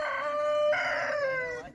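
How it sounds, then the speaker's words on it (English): A Bresse rooster crows once, loud and close, a long drawn-out call with a clear rising then falling shape, lasting under two seconds with no talk over it. "our Bresse chickens that we just got not long ago"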